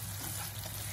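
Sausages sizzling and crackling while being stir-fried in a pan with seasoning, a dense steady hiss heard alone in a brief burst.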